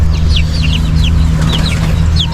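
Rhode Island Red and Brahma chickens with feathered feet cluck and chirp repeatedly close by, short rising calls overlapping a loud, steady low hum, with no speech.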